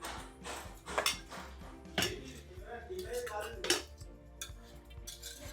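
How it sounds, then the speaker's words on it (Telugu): Plates and cutlery clink repeatedly at close range while a chicken curry and rice lunch is being served, in a series of sharp clanks with a voice faintly present underneath. "ఒక ప్లేట్ యష్కి ఒక ప్లేట్ నాకు"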